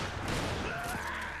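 Gunfire in the video game Resident Evil 5, a dense burst of shots heard briefly and at moderate distance under the game's ambient noise.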